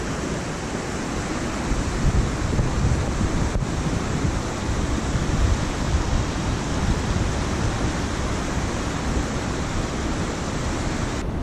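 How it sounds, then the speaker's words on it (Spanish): Flooded river after storm Fabien in Valladolid, Castilla y León, a loud, steady roar of rushing current carrying logs, continuous and close with no talking. "la corriente del agua lo arrastra todo, todo. Tiene una fuerza descomunal."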